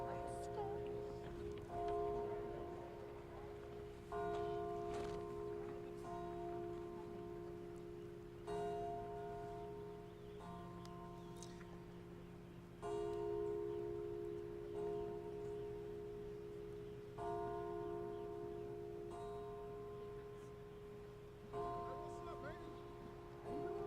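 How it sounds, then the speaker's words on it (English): Church bells ring repeatedly outside a church during the funeral of police officer Kyle Hicks, steady tolling strikes recurring every few seconds at moderate distance over a constant low hum and murmuring voices. "You can hear the church bells ringing."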